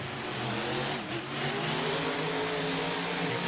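Racing trucks launching off the start line at an off-road race, engines revving hard and building in a sustained, fairly distant roar.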